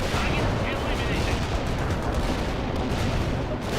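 An anti-tank artillery strike lands in the Cold War strategy game World in Conflict, a continuous, heavy roar of blasts and rumbling impacts that stays loud and unbroken throughout.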